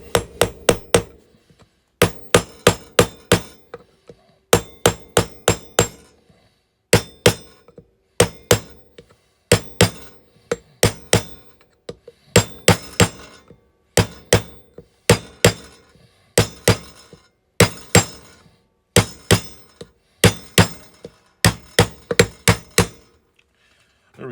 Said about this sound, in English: I wonder if I can pop this out with a hammer.